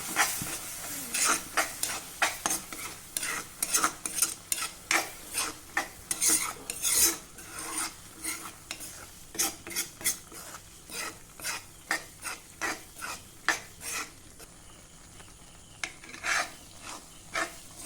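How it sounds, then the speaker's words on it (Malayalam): Lemon pickle being mixed with crushed mustard, asafoetida and turmeric: close, rhythmic rasping scrapes of a spoon against the pan, repeated strokes over a faint sizzle. "ഒന്നുകൂടെ നന്നായി ഇളക്കി മിക്സ് ചെയ്യുന്നു"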